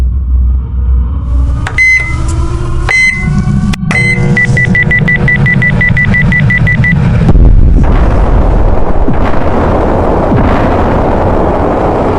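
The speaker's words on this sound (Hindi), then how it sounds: "अचानक एक भीषण विस्फोट की आवाज आती है और पोखरण का पूरा इलाका कांप उठता है" A dramatized nuclear bomb test at Pokhran, India in 1974: a sequence of electronic beeps and a steady tone gives way to a loud, deep, rolling blast rumble that lingers to the end.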